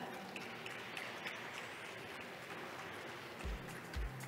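A conference audience gives a soft, sustained round of applause as panelists are welcomed onto the stage, with a couple of dull thumps near the end.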